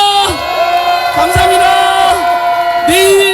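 A rally crowd at a Friday protest against the prosecution shouts together in a loud, sustained chant with rising and falling sung tones, a dense mass of voices close up for the whole stretch.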